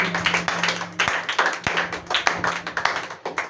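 A church congregation claps together in acclaim of Jesus during a French-language service, with brisk rhythmic handclaps close by over a low sustained musical hum.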